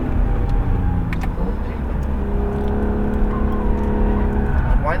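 Acura NSX on a race track, its engine droning steadily and loudly as it brakes and downshifts, with rising rev blips near the end; an instructor's voice is faintly present.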